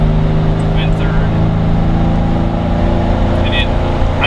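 A Jeep Wrangler JK engine drones loud and steady while driving in 3rd gear, a low sustained hum with road and wind noise throughout and no clear gear change.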